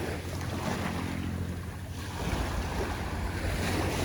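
Sea waves wash against a shore in the Philippines, a steady broadband roar mixed with wind buffeting the microphone, continuous and fairly loud with no voices.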